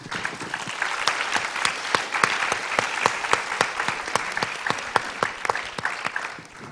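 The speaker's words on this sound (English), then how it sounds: "So a round of applause for the panel," Audience at a global sustainable food systems conference applauds a panel, steady dense clapping with sharp individual claps throughout, fairly close and sustained without voices.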